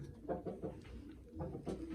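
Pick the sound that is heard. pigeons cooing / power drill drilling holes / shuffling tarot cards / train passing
pigeons cooing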